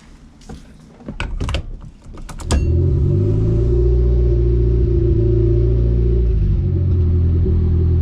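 A Honda car engine accelerates during a tuning pull, a loud, steady droning roar that builds and holds. It follows a few brief clunks and knocks from inside the car, with no talk.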